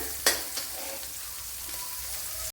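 Small shallots sauté in a hot pan with a steady, close sizzle, marked by a sharp clink of a utensil near the start and another at the very end.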